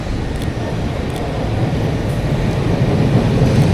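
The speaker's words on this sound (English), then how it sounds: "We've got the tram finally coming towards us." A tram on a Porto street approaches with a loud, steady low rumble that swells slightly as it draws closer, with no talking over it.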